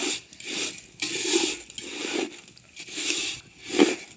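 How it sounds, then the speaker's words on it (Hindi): A spoon stirs vermicelli as it dry-roasts in a pan over low heat, giving repeated scraping, rasping strokes in an uneven back-and-forth rhythm, close and moderately loud with no talking. "ये देखें चम्मच हम इसलिए हिला रहे हैं ताकि ये जल न जाए।"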